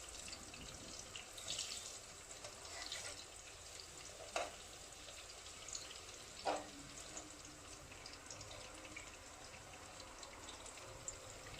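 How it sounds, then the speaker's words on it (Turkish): Eggplant slices frying in oil, a steady soft sizzle and crackle with a couple of brief louder spits, close up and without talking. "patlıcanlarımızı kızartıyoruz"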